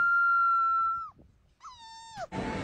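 A dog howls like a little wolf: one long sustained tonal howl, a short pause, then a second howl that bends downward, followed by a burst of noisy sound at the end.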